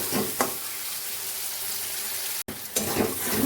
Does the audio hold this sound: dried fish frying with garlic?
yes